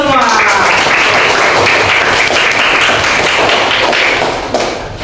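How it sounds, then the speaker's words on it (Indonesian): Classroom applause in an Indonesian-language lesson, a loud, dense and continuous burst of clapping from a group of students that holds steady for several seconds before easing off. "Oke, tepuk tangan untuk kita semua."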